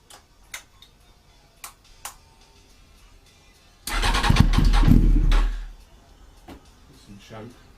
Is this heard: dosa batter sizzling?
no